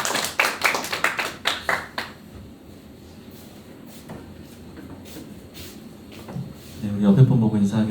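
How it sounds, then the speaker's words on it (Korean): A church congregation at a Sunday service claps in welcome. There are a few sharp, loud claps in quick succession at the start, then quieter room sound, with people talking toward the end. "우리 큰 박수로 환영하도록 하겠습니다"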